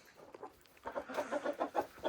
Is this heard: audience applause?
no